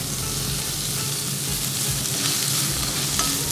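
Onions frying with curry leaves and pandan leaves in hot oil for a Sri Lankan crab curry, a loud, dense, continuous sizzle close by with no voices.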